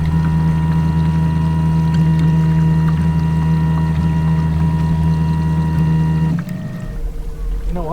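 A boat motor drones steadily at a distance through fog on open water, a constant low hum that holds for several seconds and then abruptly drops away.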